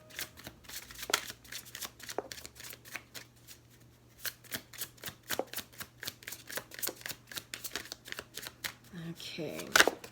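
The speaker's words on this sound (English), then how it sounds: "let's check in with the Untamed Oracle deck. Let's go ahead and pull 4 cards to clarify the messages." A tarot-style oracle card deck is shuffled by hand at close range, producing a long run of quick, crisp riffling snaps and flutters in steady bursts, faint and alone without talk.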